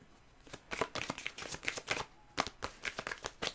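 Tarot cards are shuffled in quick bursts of crisp riffling and flicking, with a short pause midway, close and fairly quiet.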